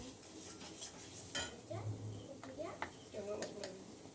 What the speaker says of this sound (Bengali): এবার এই মশলাটাকে ভালো করে নাড়াচাড়া করে নিতে হবে, কাঁচা গন্ধ যাতে চলে যায়।